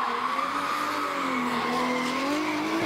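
A drift car slides along a concrete stadium wall during pro-sport drift qualifying at Baypark Stadium. Loud sustained tire squeal and a wailing, high-revving engine run unbroken and close for the whole stretch.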